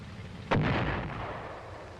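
An M551 Sheridan armored reconnaissance assault vehicle fires a missile with a single sharp, loud blast followed by a long rumbling decay that fills the rest of the moment.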